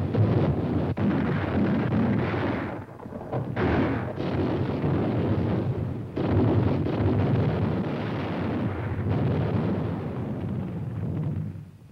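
Heavy Japanese naval gunfire from a 1944 war documentary, a continuous loud rumbling barrage of booms and blasts filling the whole stretch with no pauses.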